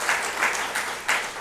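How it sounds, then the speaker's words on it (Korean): Brief burst of church congregation applause welcoming elders at an anniversary seminar, a dense wash of clapping swelling in waves. "장로님들 박수로 환영하겠습니다"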